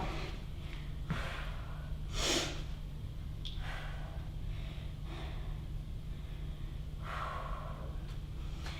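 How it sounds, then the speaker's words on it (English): Heavy breathing during an indoor bootcamp workout, with several sharp, forceful exhales and snorting breaths spaced a second or two apart, fairly faint against a low background hum. "If you hear that big exhale, that's me."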